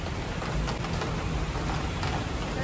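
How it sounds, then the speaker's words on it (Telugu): Heavy rain pours down in a dense, continuous hiss with steady loudness and no pauses, and nobody speaks. "ఫుల్గా వర్షం స్టార్ట్ అయింది"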